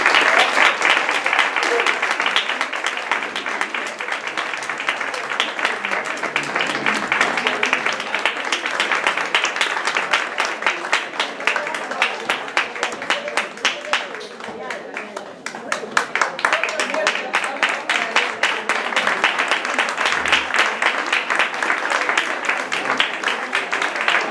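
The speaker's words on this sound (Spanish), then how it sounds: "un fuerte aplauso para Juanita" Loud, sustained applause from an audience at a poetry reading night, dense rapid clapping that continues for over twenty seconds with a brief dip in the middle.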